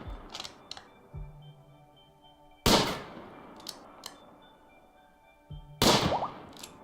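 Gunfire in the colony-management video game RimWorld, with sharp single shots bursting out loud at intervals between quieter game clicks and tones.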